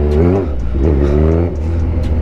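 Kawasaki Z1000 motorcycle engine revving hard and loud up close, pitch climbing and dropping in a few surges and holding at a steady rumble between them.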